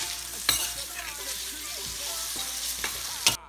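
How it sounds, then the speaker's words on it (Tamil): Boiled, drained spaghetti is tossed and fried in oil in a pan for aglio e olio, a continuous close sizzle with occasional scrapes and taps of a spoon against the pan. "இப்போ நாங்கள் இந்த ஸ்பகெட்டி அவிச்சு வடித்து வச்சுருக்கத அதில் போட்டோம். போட்டு நல்லா மிக்ஸ் பண்ணிக்கலாம்."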